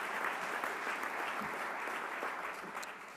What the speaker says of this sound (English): If you can please give all of them a round of applause.